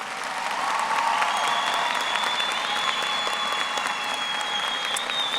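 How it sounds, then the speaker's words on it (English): A crowd at a 2016 high school graduation ceremony applauds award recipients, with sustained, even clapping heard from some distance and a faint tonal hum running underneath. "Please give them a round of applause."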